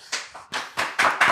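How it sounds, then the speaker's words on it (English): A polite golf clap: five or six light, close hand claps in a quick, fairly even rhythm, crisp and moderately loud with no talking over them. "Rampage gave me the golf clap"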